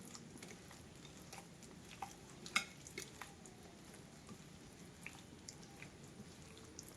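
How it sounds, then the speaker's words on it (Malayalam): Thick batter for breadfruit (kadachakka) bajji is kneaded by hand, making soft, wet squelching and sticky clicks at close range. The sounds are faint and irregular over quiet background hiss. "കൈ വെച്ച് തന്നെ നന്നായിട്ടൊന്ന് കുഴച്ചെടുക്കാം"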